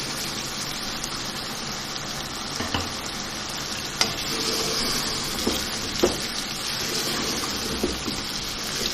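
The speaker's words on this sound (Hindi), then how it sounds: "इसको इस वक्त भुनाई बहुत अच्छी तरह से करनी है हमें।" Nihari masala sautés in a pan with a constant close sizzle and frying hiss, broken by occasional scraping knocks of a spoon as it is stirred, and no talk.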